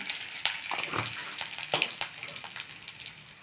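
Curry leaves and asafoetida crackling in hot oil with mustard seeds and cumin, for a tangy okra tamarind curry: steady close sizzle broken by sharp pops and spits, with no voices.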